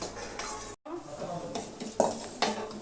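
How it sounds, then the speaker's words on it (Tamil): Semolina roasting in a pan after cashews and raisins are fried, with scraping spoon strokes and light clinks of metal against the pan over a soft sizzle, close by. "அதில் ரவையை கொட்டி வறுத்துக்கலாம்"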